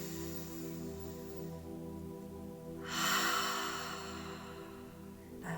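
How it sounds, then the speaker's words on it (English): One slow, deep breath is drawn and released during a guided meditation, a soft breathy rush rising mid-way and fading out over a low, steady background hum. "Take a nice deep breath."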